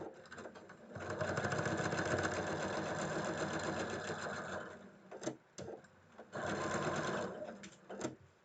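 A sewing machine stitches a quilt block seam, giving a steady, close mechanical whir that stops briefly and then starts again in a shorter burst.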